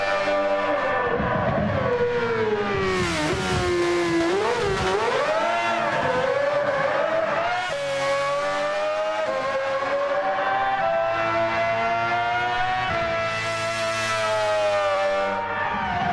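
A McLaren race car in the Gran Turismo 7 racing game roars continuously at high revs, rising and falling through gear changes with a brief dip mid-run, loud and close, no talking.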